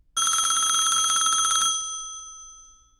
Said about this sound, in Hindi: तभी अचानक उसका फोन बज उठा